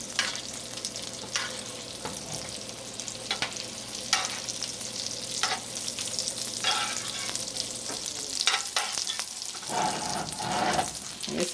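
A New York strip steak sizzles loudly and steadily in a heavy skillet as it is basted, with spoon scrapes and spattering bursts recurring across the pan.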